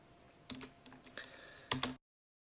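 Bursts of close keystrokes on a computer keyboard, typed in short irregular clusters and separated by brief pauses, then ending abruptly.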